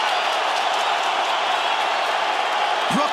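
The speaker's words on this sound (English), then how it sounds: "Brooklyn crowd getting behind these 2 warriors." A Brooklyn crowd at a Zabit Magomedsharipov versus Kyle Bochniak fight roars and cheers steadily in the last minute, a dense, loud wash of noise that holds throughout without a break.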